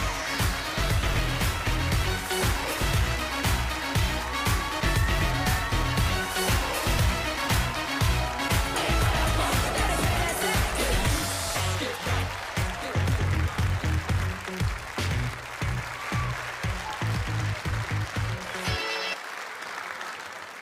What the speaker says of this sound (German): Einen großen Applaus für Ali